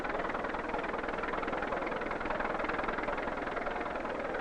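A 1960s farm tractor at a county fair tractor pull, dragging a steel sled loaded with concrete blocks, its engine a loud, steady low drone with no letup and no voices.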